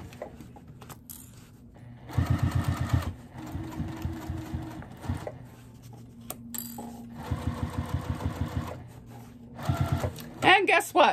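A sewing machine stitches along the edge of a fabric car trash bag in several quick bursts of rapid needle clatter, separated by pauses filled with talking.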